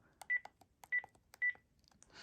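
A Panasonic KX-PRS120 cordless phone keypad sounds three short DTMF beeps at a steady pace. They ring quietly among faint clicks and handling noise, and a soft rustle comes at the end.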